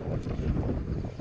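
Wind gusts buffet the microphone on a house building site where load-bearing walls are being laid, a brief, steady low rumble with no voices.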